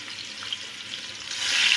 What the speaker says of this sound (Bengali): তো এর মধ্যে আমি চিংড়ি মাছটা আগে ভেজে নিচ্ছি।